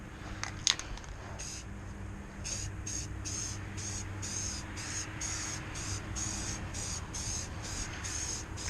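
Accent paint is sprayed onto a car body in repeated short bursts, each hiss starting and stopping in a steady rhythm over low background hum, with no talking.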